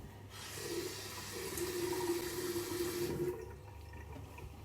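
Tap water runs steadily into a bathroom sink for about three seconds while a face is rinsed, soft and close, with no talking.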